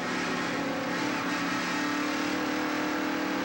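Pickup race trucks in a 1995 Craftsman Truck Series race roar on the track, a steady, dense engine drone with a droning tone, heard continuously without voices.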